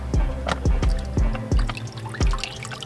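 Water drips and splashes from cleaned fish being squeezed by hand before storage, a run of close, distinct drops falling in quick irregular succession with no talk.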